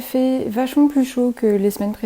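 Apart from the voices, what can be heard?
No everyday noises stand out.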